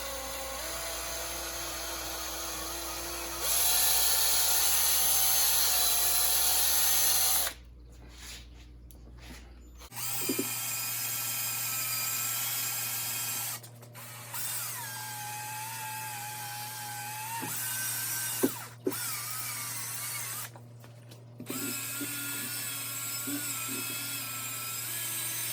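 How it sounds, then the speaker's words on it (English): A powered buffing wheel polishes a polyurethane finish in several runs, a high whining spin that rises and cuts off, broken by short pauses and a couple of sharp knocks. "the wheel is just moving in this way when I'm polishing it"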